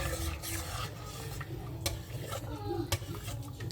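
A pot of harira soup is stirred, a continuous rubbing, scraping swirl close by with occasional sharper knocks of the spoon against the pot.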